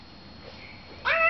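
A short cat meow rises near the end after a quiet moment, close and fairly clear over faint room noise.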